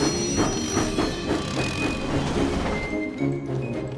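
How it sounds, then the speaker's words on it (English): An animated steam tank engine pulls two coaches along the track, with steady rhythmic puffing and rolling rail sounds, loud and close, running continuously without any talk. "Thomas huffed happily out of the steamworks with Annie and Clarabelle"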